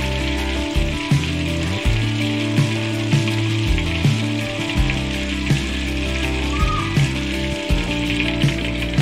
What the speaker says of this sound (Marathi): भांड्यातलं तेल गरम झालेलं आहे व आता मी यामध्ये तेजपत्ते टाकून घेणार आहे